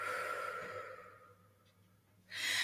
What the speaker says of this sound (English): And then breathe out and let go.